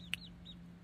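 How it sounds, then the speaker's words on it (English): Faint, distant clucking from a small backyard flock of four hens, a sharp single squawk near the start and softer calls after, over a steady low hum. "I've got 4 hens, 4 lovely hens, and hens will go like that."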